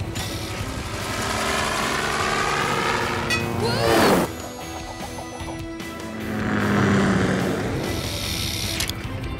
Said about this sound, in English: I need you to use your copter and harness to rescue Marshall and Mayor Humdinger.